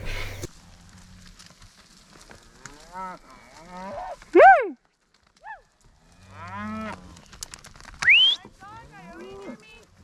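Cattle being gathered in steep country moo several times, some calls loud and near, others fainter, spaced irregularly over low background noise with a brief voice or two faintly in between.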